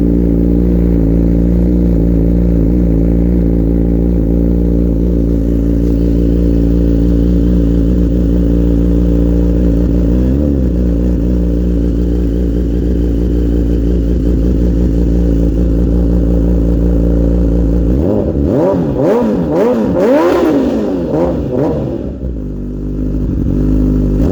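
A 2022 third-generation Suzuki Hayabusa motorcycle with a full Brocks alien head aftermarket exhaust idles loud and throaty up close, then revs a few times near the end before dropping back.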